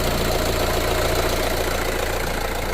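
A Renault Scenic diesel engine idles steadily with a continuous low rumble and fine clattering texture, loud and close throughout with no talking.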